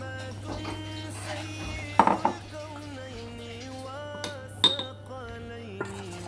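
Boiled chickpeas, chopped onion and tomato being stirred together in a bowl, giving a few sharp clinks and scrapes of a spoon against the dish over a steady background hum, with a short burst around the middle.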